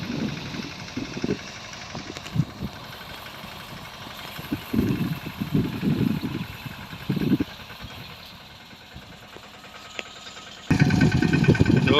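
A tractor engine runs while spraying pesticide over a cotton field, a steady mid-pitched idle-like drone with irregular louder surges, a quieter dip near the end, then a sudden return to full volume.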